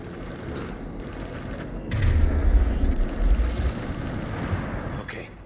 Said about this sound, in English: Gunfire. They are near.